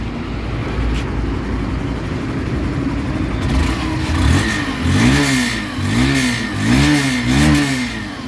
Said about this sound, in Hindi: तो देखो इसका एग्जॉस्ट ऑन